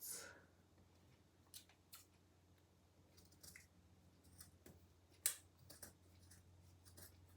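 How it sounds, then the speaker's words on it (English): Scissors cut through fabric for a circular batwing-sleeve blouse, giving a scattered run of soft, close snips and crisp fabric rustles with quiet gaps between them and one sharper snip near the middle. "So I'm just going to get my scissors"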